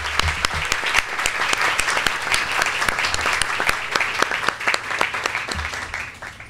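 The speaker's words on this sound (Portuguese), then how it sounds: "Uma salva de palmas." A university lecture audience breaks into applause, a steady, fairly loud patter of many hands with a few sharper individual claps standing out, continuing evenly for several seconds.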